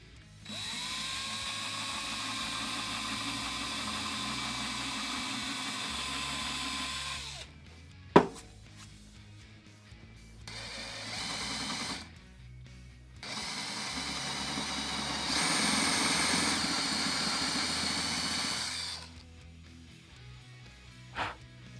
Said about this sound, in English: I'll take my smallest drill bit that I have and drill a hole right there in the center